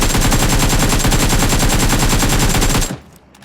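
Rapid automatic gunfire in the BGMI mobile battle royale game, a loud sustained burst of evenly spaced shots lasting nearly three seconds before cutting off abruptly.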